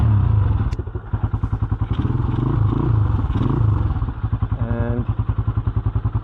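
A warmed-up Skygo Boss 150 motorcycle idles close by with a steady, chugging single-cylinder pulse, a small clatter early on and a brief blip of revs near the end.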